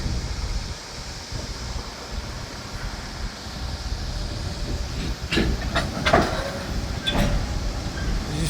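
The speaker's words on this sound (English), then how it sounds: "And there's the slack of the cars slamming together" Slack running through stopped freight train railroad cars, a few sharp metallic bangs late in the clip over a steady wind-like hiss of distant rail noise.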